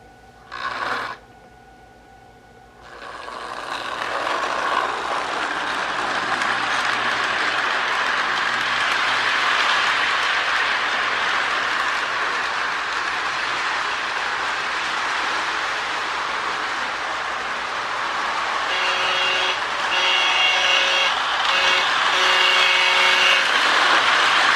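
A brief toot of an MPC-era model train horn opens, then a steady mechanical whirring hum from the model locomotive runs on, with faint repeated beeping tones toward the end.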